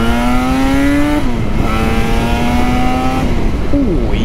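A Yamaha RD350 YPVS two-stroke motorcycle with performance expansion chambers accelerating hard, its loud, rising engine note climbing through gears with brief drops at each shift, heard up close on a ride.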